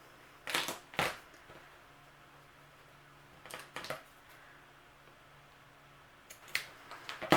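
Scissors snip ribbon at an angle while a bow is finished on a painted wood slice Christmas ornament, giving a few quiet, close crisp cuts in small clusters with pauses between them.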